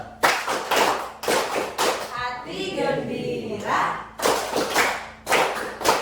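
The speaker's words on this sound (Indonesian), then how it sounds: "tepuk syukur" A group claps in unison, giving a rhythmic 'tepuk syukur' thanks clap in short repeated bursts of sharp hand claps, broken by a pause where a voice speaks and sings.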